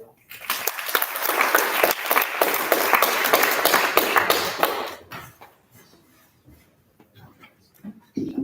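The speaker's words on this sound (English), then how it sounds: "An applause, please." Audience applause at an archaeology talk event, a dense burst of many hands clapping loudly for about four seconds before dying away, followed by quiet and the start of a voice.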